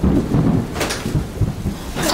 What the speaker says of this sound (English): My God, why does it thunder have to be so loud?